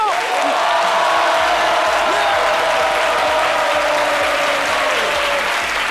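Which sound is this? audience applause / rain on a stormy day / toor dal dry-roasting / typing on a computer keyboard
audience applause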